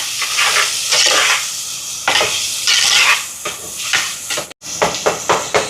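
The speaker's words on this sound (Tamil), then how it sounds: "தக்காளி பழம் கொஞ்சம் வதங்கட்டுக்கும்" Tomatoes sauté in a pan for mutton curry, hissing and sizzling loudly while a utensil stirs in repeated rhythmic bursts.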